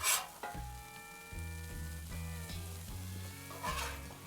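Smashburger patties on a flat-top griddle hiss in a steady close sizzle while a spatula scrapes and flips them, adding a few sharp metallic clacks. No one speaks.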